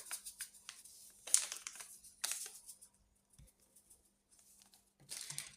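A small paper packet of yeast is torn open and crinkled in a home kitchen, several short rustling and crackling bursts separated by quiet pauses, close and fairly soft.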